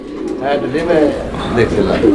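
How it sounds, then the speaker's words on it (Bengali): Female fancy pigeon cooing close by in a loft, several soft rolling coos in a row under low background noise. "তো দর্শক এটা হচ্ছে মাদি কবুতরটা"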